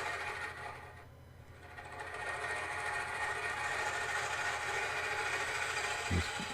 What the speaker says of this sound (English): Now I'm going to use this nickel scraper to undercut the bottom underneath the box.